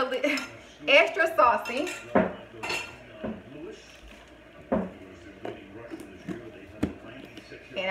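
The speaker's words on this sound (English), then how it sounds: "Go ahead and mix up my sauce off the stove." Wing sauce for lemon pepper and hot wings being mixed off the stove, with close clinks and scrapes of a utensil against a bowl in irregular bursts, and a voice speaking briefly between the clatter.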